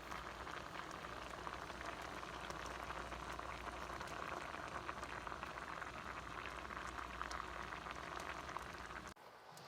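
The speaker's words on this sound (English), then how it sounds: "we're going to let this cook for about 3 to 5 minutes to help it reduce down and bring it up to a simmer" Coconut milk simmering and reducing in a pan bubbles with a dense, even crackle and pop throughout, close and moderate, cutting off just before the end.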